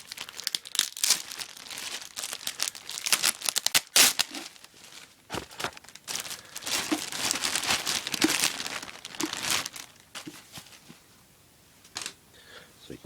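Close, busy crinkling and rustling of bubble wrap and a plastic bag in bursts, with occasional sharp crackles and pops, fading toward the end.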